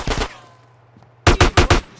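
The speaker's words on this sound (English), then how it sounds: "Somebody's shooting." Gunfire from the video game GTA San Andreas: a couple of quick shots, a pause, then a rapid burst of four loud bangs close by.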